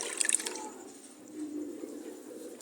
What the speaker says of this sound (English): Rinse it properly well to make sure that you get all the juice out completely.